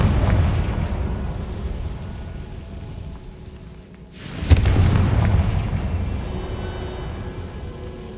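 A Confringo explosion spell bursts in Hogwarts Legacy, a sharp blast at mid-clip that swells into a loud, rumbling roar over steady low ambient rumble, then trails off slowly.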